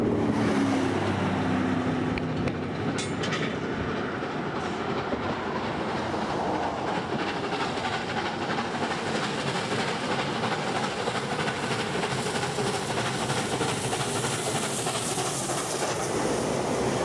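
A heavy steam locomotive rumbles past with a loud, steady roar and faint clattering, growing slightly brighter toward the end; no voices.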